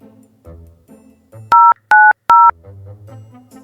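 Three loud telephone keypad dialing tones sound in quick succession, each a short steady beep, set against quieter background music.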